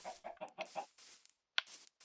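Chickens in a video game cluck in a quick series of short, soft clucks followed by a couple of sharper squawks, faint and close with no talk.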